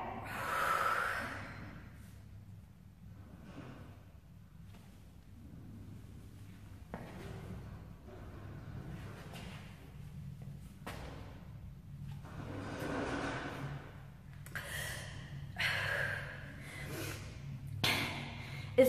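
Forceful breathing exercise for tightening the tummy, with air pushed hard out of the lungs: several close, sharp exhales and snorting breaths come in bursts, with quieter gaps between them.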